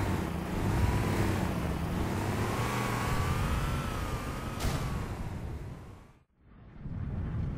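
A car pulls away and accelerates, its engine rising steadily and staying loud and near for several seconds, then dropping out briefly before the motor noise swells back.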